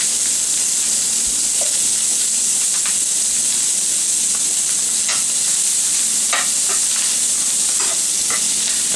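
Shrimp seasoned with Old Bay sizzle with butter in a hot pan, a loud, continuous frying hiss broken by scraping, clicking stirs of a utensil against the pan.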